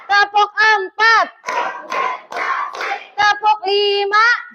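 A classroom clapping game in an Islamic religious lesson: a voice calls out counts, and the pupils answer with short bursts of rhythmic hand clapping that alternate with her voice, close and fairly loud.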